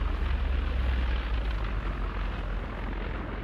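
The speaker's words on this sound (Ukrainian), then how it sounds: "Це якийсь великий бомбер." A large bomber's engines in the War Thunder air-combat game drone as a steady, smooth propeller rumble, fairly quiet and unbroken, with no talking.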